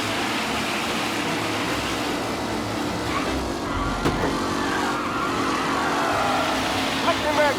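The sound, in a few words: race cars speeding in Mafia Definitive Edition video game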